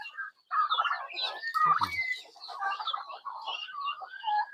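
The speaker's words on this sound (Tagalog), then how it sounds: "So ito kasing pabo na ito, hindi mapakali hanggat hindi nakakapalo." A restless turkey on a small farm makes a run of close, busy calls, with a rattling gobble in the middle and chattering clucks around it.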